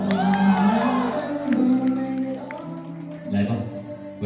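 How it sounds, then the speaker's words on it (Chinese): A wedding crowd whoops, shouts and cheers in bursts, loud and close, with excited voices rising and falling throughout. "我们想再次听到你们的尖叫声"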